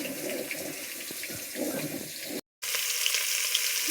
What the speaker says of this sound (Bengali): এই যে তেলে আলুটা ভাজছি